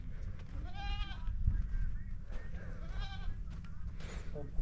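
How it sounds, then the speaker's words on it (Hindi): Young goat kids bleat in a pen, several wavering cries at about one-second intervals, moderately near, over a low steady rumble of background noise with faint voices. "अभी लेके आए हम ये बकरों के जो छोटे बच्चे हैं बकरियों के, ये जो फिर रहे हैं"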